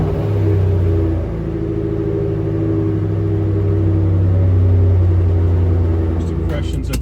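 Ford Mustang Cobra with an MGW shifter driving along, a steady low engine drone and road rumble with a faint rise in revs, recorded from inside the cabin.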